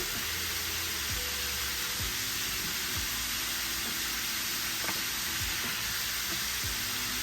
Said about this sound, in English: let it fry on that side for about 3 or 4 minutes